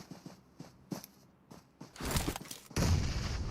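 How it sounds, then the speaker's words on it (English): Gunfire and explosions from a Clatter of Clans esports qualifier match: several scattered sharp shots, then dense, loud bursts of rapid fire and blasts toward the end. "But Sicario also getting drawn closer by the sound, by the noise. All the explosions."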